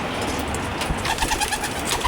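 Pigeons coo close by in a series of soft, rounded, repeated calls over a steady background hum, with a few light flutters as a bird is set free.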